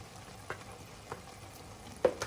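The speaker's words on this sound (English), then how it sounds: "I'm gonna stir and see." Spinach sauce stew being stirred in a pot, a spoon scraping in a few soft strokes over a faint, steady sizzle, close and quiet, with one louder clink near the end.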